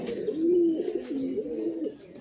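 Giribaj pigeons coo in a low, rolling, repeated call close by, several soft warbling phrases running together with no talk over them.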